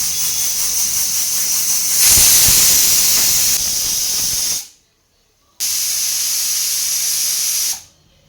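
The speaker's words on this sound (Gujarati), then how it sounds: "ત્રણ સીટી વાગી ગઈ છે" A pressure cooker cooking khichdi on a gas stove lets out a loud, continuous hissing steam whistle that swells, cuts off briefly, then resumes before fading.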